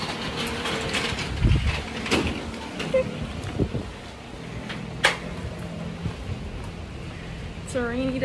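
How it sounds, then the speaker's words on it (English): Rain falls on a town street on a rainy day, a steady hiss with a few faint knocks and clatters, while someone talks nearby. "It's a rainy day."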